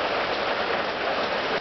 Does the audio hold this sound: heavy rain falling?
yes